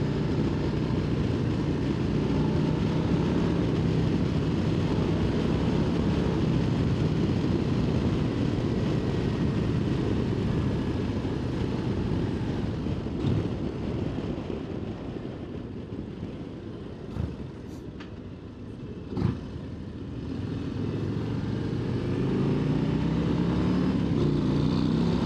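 A 2025 Harley-Davidson CVO Road Glide ST revs high under load while riding, a loud sustained engine roar with wind rush that dips briefly before surging back.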